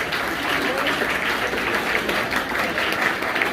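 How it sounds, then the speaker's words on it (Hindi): Applause for school staff members at a Math Day celebration at a government senior secondary school in Hassanpur, a steady, dense wash of clapping from a roomful of people that holds evenly for the whole stretch. "इनके लिए भी तालियां जो इन्होंने सहयोग दिया।"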